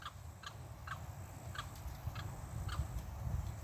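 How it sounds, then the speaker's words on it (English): A limpkin's loud, harsh wading-bird calls repeat roughly every half second over steady low rumbling background noise, carrying from some distance, at Oscar Scherer State Park, Florida. "Oh, you hear a little limpkin in the background."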